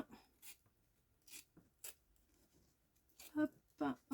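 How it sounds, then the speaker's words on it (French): Scissors cut during a spring home decor craft, making faint, short snipping and rustling bursts scattered under quiet French speech. "je coupe derrière. Je coupe tout."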